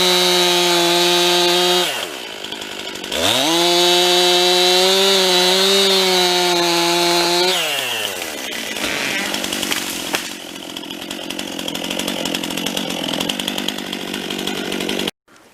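A Stihl 026 chainsaw cuts a small maple tree for firewood. The engine screams loud and close at high revs, drops briefly to idle, revs again through the cut and then settles into a rougher running tone.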